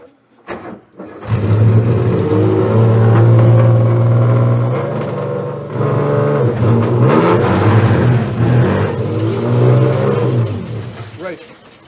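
A BMW 3.0 CSL Calder Art Car's engine revs and rumbles up close with a steady exhaust drone, easing off and building again across the clip, with a person talking over it.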